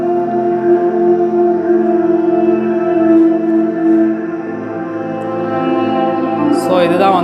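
Xiaomi Mi 4X 65-inch 4K TV with Dolby Digital and DTS HD support playing through its built-in speakers at full volume, giving a loud, steady tonal sound with voice-like harmonics that ends in a brief noisy burst.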